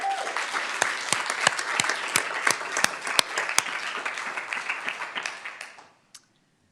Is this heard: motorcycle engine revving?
no